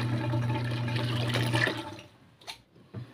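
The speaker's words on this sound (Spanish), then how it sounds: "Voy a empezar a aumentar el agua fría." Half a litre of cold water poured into a laundry soap mixture, a steady close gushing rush for about two seconds that cuts off into a few faint drips and splashes.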